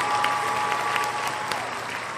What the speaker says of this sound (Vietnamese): một tràng pháo tay nữa cho Quang Hùng.